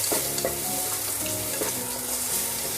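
Minced garlic sizzles steadily in a hot pan for arroz caldo, a constant close frying hiss with occasional stirring scrapes and no talk.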